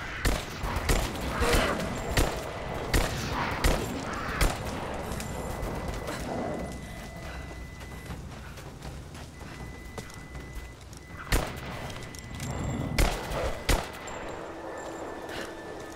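Pistol shots from a handgun in the action game Rise of the Tomb Raider ring out as sharp, loud bursts at irregular intervals over busy game ambience, clustering near the start and again toward the end.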